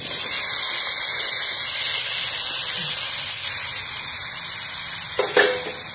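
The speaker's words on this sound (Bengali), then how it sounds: "আমি আলু পটলটা দিয়ে দিলাম" Potatoes and pointed gourd go into spiced masala frying in a pan, producing a continuous loud hiss and sizzle, with a brief clatter of utensils near the end and no talking.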